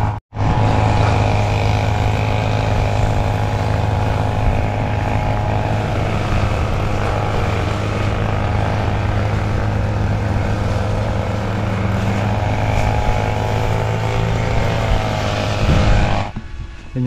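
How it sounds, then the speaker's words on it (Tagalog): Small drone's propellers buzzing steadily and loud, near and continuous for the whole stretch, flying over a mini farm, with no talk. "Yung ating drone"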